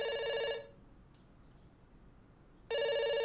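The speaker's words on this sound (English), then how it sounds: "It's ringing. Don't worry." A telephone rings in the video game Dr Langeskov, The Tiger, and the Terribly Cursed Emerald, one loud electronic ring cutting off, a pause of about two seconds, then the next ring starting, with no talk.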